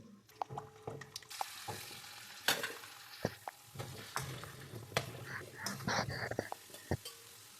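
Gooseberries fry in peanut oil in a wok over a medium flame, bubbling and crackling with busy stirring and clinks of a spoon against the pan, loud and close in uneven bursts.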